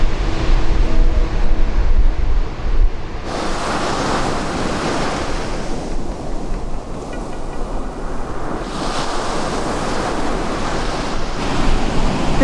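Ocean waves wash onto a Bay of Plenty beach in New Zealand at sunset, a loud, continuous surf rush with swelling breakers, heavy wind buffeting the microphone, and no voices.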